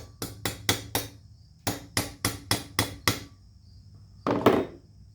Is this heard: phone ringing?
no